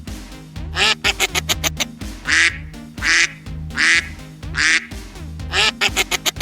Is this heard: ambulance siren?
no